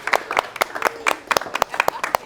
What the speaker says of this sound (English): y'all please give Michael a round of applause